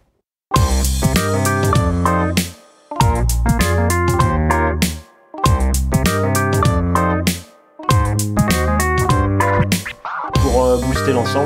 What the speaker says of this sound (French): Donc le tout mixé, ça donne quelque chose comme ça.